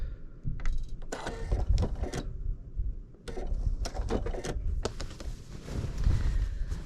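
A sewing machine stitches a binding strip onto a quilt in several bursts of rapid mechanical clatter and whirring, with brief pauses between runs.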